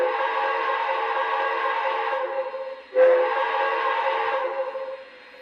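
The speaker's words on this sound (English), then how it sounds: "Little whistle action." A model Dreyfuss Hudson steam engine with MTH Proto 2 sound gives two steady, sustained whistle blasts, the second starting abruptly after a short pause and trailing off near the end, loud and alone.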